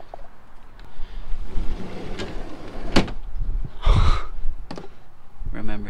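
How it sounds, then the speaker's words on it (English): A door aboard a yacht is worked open, making scattered clunks, a slide and a rattle mixed with breathy vocal sounds from a person nearby. "okay, this must be the door."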